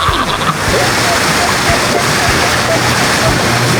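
Saline water pours steadily like a shower, a loud continuous close-up rush with a voice faintly present beneath it.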